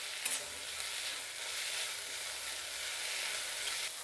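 Mint chutney with tamarind fries in a pan, a steady close hiss and soft crackle that holds evenly throughout with no voices.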